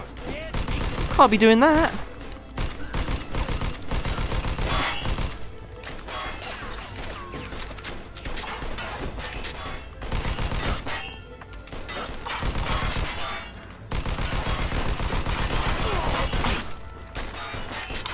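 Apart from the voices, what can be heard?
gunfire in Mafia 2 video game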